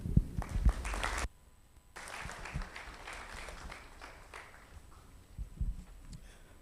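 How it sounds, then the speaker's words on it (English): Audience applause at an African SACCO technology forum, a crowd clapping loudly for about a second before breaking off, then a softer, sustained spatter of clapping that swells briefly again near the end. "A round of applause."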